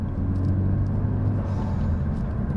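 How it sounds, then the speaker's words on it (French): Renault Megane 3 RS fitted with a stainless steel exhaust line, cruising at normal speed without hard acceleration. A low, husky rumble rolls steadily beneath road and cabin noise, present but fairly subdued, with no talking. "En roulant normalement, sans faire d'accélération jusqu'au rupteur ou autre, on est sur un petit son rauque"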